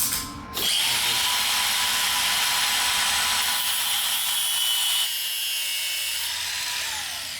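A power tool cuts through the worn drive chain of a Yamaha Warrior 350 ATV, starting with a sharp bite and then holding a loud, steady high-pitched grinding whine for several seconds, close up with no talking.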